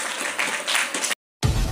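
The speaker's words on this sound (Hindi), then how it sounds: "तो मैं चाहता हूँ जोरदार तालियां होनी चाहिए" Clapping from an audience at a regional youth welfare and development department event in Bareilly, a dense burst of hands that cuts out abruptly for a moment, then resumes loud and close.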